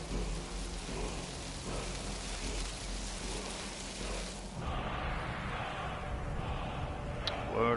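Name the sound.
Storm Call shout summoning thunderstorm and lightning in video game Skyrim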